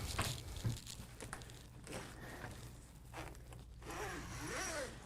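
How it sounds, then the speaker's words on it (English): A suitcase zipper is drawn steadily around its track by the lock pull, a close, continuous rasping with light crinkling handling noises, no talking. "grab this lock and this zipper mechanism, zip it all the way to the other side"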